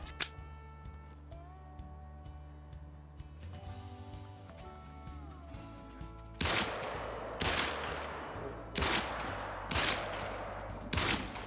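Rifle shots ring out in a wolf hunt in the video game Call of the Wild, four loud sharp reports spaced a second or two apart over a low ambient hum.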